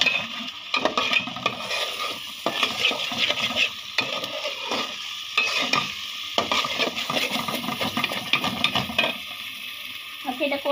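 Spices including cinnamon scrape and sizzle as they are stirred in a cooking pot on a stove for Dhaka-style chicken biryani, with frequent loud, irregular strokes over a constant frying hiss and brief voices.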